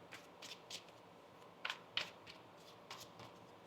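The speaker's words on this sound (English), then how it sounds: "One more shuffle here." Tarot cards are shuffled by hand, a soft series of quick riffling and slapping bursts, close but quiet, with two sharper snaps midway and no voices.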